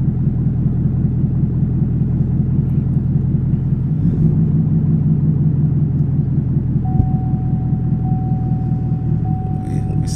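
A manual Chevrolet Camaro ZL1 idles with a deep, steady rumble as the clutch is eased out and the car slowly pulls away, heard from inside the cabin.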